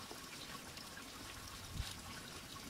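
A small woodland stream trickles steadily in hilly forest, a soft continuous watery babble at low level with one brief louder splash near the end.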